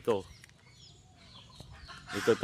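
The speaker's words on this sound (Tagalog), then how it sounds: "Makikita natin dito yung mga alagang manok." Free-range native chickens on a farm give short clucks and chirps close by, with a brief voice at the start and end and quiet rustling between.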